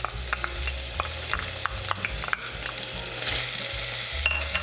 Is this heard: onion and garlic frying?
yes